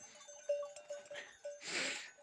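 Sheep on a farm call out in a few short, nasal bleats close by, followed by a louder rustling burst near the end.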